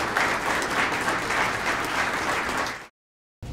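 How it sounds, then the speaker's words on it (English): Audience applause at a police chief's awards ceremony, steady clapping from a crowded room that fills nearly three seconds, then cuts off abruptly to silence before a brief burst resumes. "So let's give Mary a round of applause as well"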